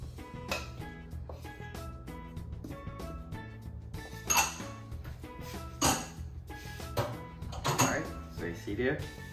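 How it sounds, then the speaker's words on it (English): A fork clinks against a bowl while mixing butter, shortening, curry powder, turmeric, salt and baking powder, with scattered light taps and scrapes under a person talking throughout. "Then I'm gonna mix this all up with a fork."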